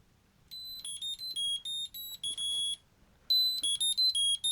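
A UGREEN Smart Finder tracker plays its locate sound, bursts of loud, high-pitched electronic beeps in rapid chirping patterns that stop, pause and start again close by.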